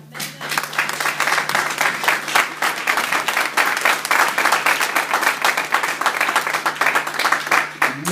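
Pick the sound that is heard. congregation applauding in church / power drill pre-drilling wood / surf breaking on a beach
congregation applauding in church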